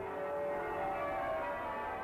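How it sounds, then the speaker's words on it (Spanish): Cathedral bells ring with a sustained, blended metallic hum of overlapping tones, steady and fairly distant, with no voices. "una cámara para tocar las campanas, con 10 de ellas, que las tocan los campaneros"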